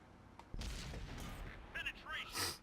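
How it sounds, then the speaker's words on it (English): Tank cannon shot in a video game aimed at an E50M, a sudden sharp boom that decays into a rumble, followed by brief game sounds and a voice talking. "That's a lovely shot on the E50M there."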